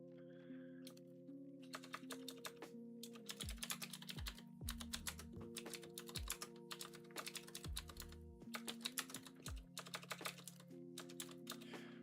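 Steady typing on a computer keyboard during a writing session, a quiet run of rapid key clicks in uneven bursts, close by, with a low electronic hum underneath and no talking.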